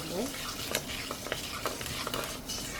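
Sliced shallots sizzle and fry in hot oil with fenugreek seeds for a shrimp kulambu, a steady crackling hiss with occasional stirring scrapes, close and continuous without speech.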